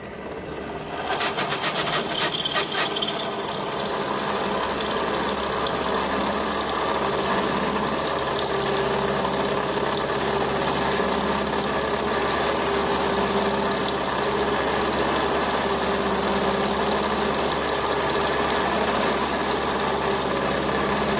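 A workshop drilling machine with a tool fitted runs while a workpiece is fed into it to cut a cone-shaped enlargement, giving a loud, steady mechanical whir and hum that holds throughout, with no talking.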